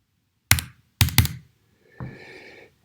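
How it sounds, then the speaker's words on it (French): Several key presses on a computer keyboard while entering a verification code, three sharp clicks in quick succession followed by a softer, longer press, close and with no talking. "Je tape, hop, le code que je viens de recevoir par mail."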